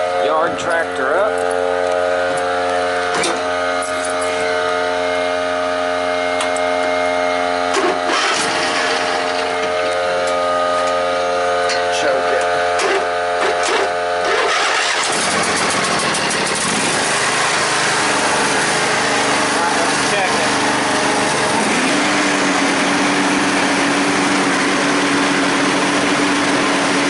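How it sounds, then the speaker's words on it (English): Troy-Bilt Pony 42-inch yard tractor engine running steadily and loud, a strong harmonic drone for the first half that shifts to a rougher, changed tone midway and continues unbroken to the end. "yard tractor up."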